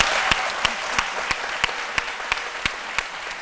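Audience applause on a French midday TV programme, a dense steady patter of clapping with sharp louder claps recurring at a regular beat, close and sustained with no voices.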